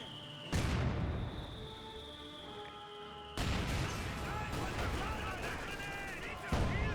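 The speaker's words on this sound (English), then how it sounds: "I heard of some sort of artillery barrage" Artillery barrage and gunfire in Company of Heroes 2, loud booming impacts and rapid shots in dense overlapping bursts, with sharp onsets around the start and midway, under faint talk.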